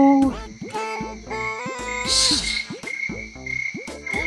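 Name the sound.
frog croaking close by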